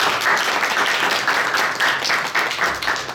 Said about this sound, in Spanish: Así que el primer aplauso de bienvenida